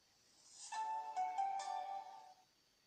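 An Android smartphone plays its startup chime while rebooting after a factory reset: a short, clear electronic melody of a few bright sustained tones that swells in and fades out over about two seconds, heard alone at moderate volume.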